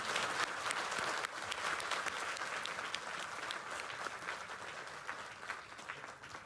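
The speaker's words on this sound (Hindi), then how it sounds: "ये डॉक्टर विश्वरूप के लिए जोरदार तालियां बजाइए।" A seated audience breaks into sustained, dense applause for Dr. Biswaroop, loud and even at first, then easing slightly while the many hands keep clapping throughout.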